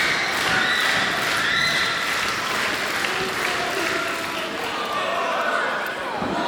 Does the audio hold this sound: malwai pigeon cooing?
no